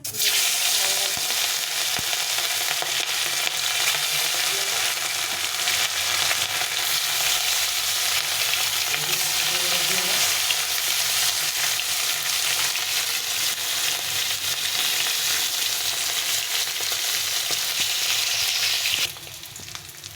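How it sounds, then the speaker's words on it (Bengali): Fish frying in hot oil makes a loud, sustained sizzle with stirring and spatula scrapes, dropping away abruptly near the end. "বাকি মাছগুলো আমি আর কিছুটা তেল দিয়ে ভেজে নেব।"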